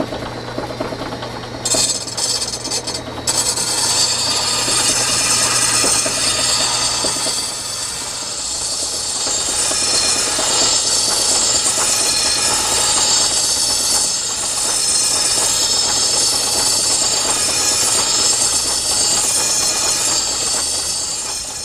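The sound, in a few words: sharpening a blade on a grinder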